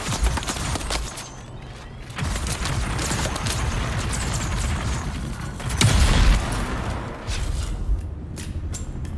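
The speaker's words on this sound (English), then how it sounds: "the explosion is big enough to kill both of them" An explosion in the survival game Dune: Awakening: a continuous roar of rumbling, crackling noise, with a louder booming surge near the end, dense and close throughout and free of speech.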